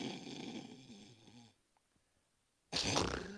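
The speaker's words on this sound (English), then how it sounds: "Waking in the middle of a prodigiously loud snore" A person snoring loudly in bed, one long rasping snore, then a pause of near silence, then another loud snore beginning.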